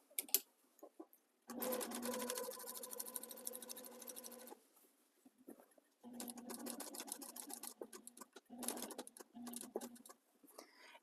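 A home sewing machine machine-binds the edge of a scrappy quilt, running in three bursts of steady, rapid stitching separated by short pauses with faint handling clicks of the bunched fabric.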